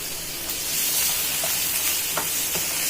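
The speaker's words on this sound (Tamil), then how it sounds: "இப்போ இதை நல்லா வதக்கிடலாம் அப்படியே ஒரு தக்காளி சேர்த்து வதக்கிடலாம்" Small onions and tomato sautéing in a pan, a steady close sizzle with a few light stirring taps and scrapes, no talking.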